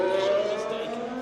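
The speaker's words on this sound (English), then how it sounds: "In fact, there's a car coming out, let's hear it." An F1 race car drives out at the Belgian Grand Prix, a loud, high engine whine with sustained harmonic tones that drifts slightly in pitch, heard alone.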